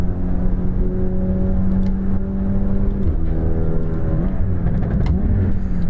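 Simulated racing-car engine in the iRacing VR game. It holds a deep, muffled drone with layered harmonic tones that dip and climb slightly, under a strong wash of air and wind noise. No voices are heard.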